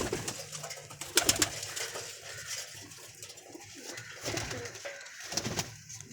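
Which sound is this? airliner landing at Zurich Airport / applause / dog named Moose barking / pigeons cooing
pigeons cooing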